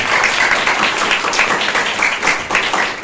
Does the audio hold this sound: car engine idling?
no